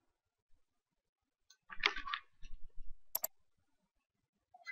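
Computer mouse clicking in PowerPoint: a few quiet, sharp clicks spaced apart, with soft handling noise around them in an otherwise silent room.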